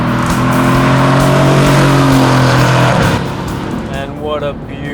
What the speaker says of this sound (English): So, I am finally on the track in the AMG GT.